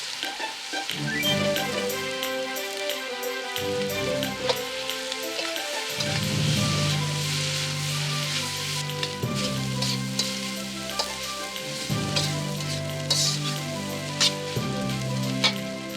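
Cooked rice stirred and frying in a hot pan for nasi goreng after prawns go in, a steady close sizzle with scraping and stirring strokes throughout and no talking.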